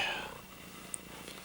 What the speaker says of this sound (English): Listen to that purring.